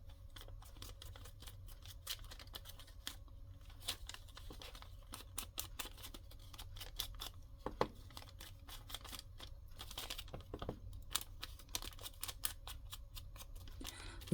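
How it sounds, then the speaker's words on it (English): A small piece of very light, thin paper torn by hand while decorating a Christmas envelope flip-out for a winter journal, giving close, continuous crackling rips and crinkles with rapid snappy bursts throughout. "I'm just going to tear this little piece here."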